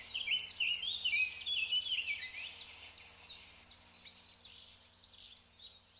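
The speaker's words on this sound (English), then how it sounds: "Thank you, bird songs." Several birds sing outdoors with overlapping bright chirps and warbling phrases, strongest early and gradually thinning, with a low steady hum beneath and no talking.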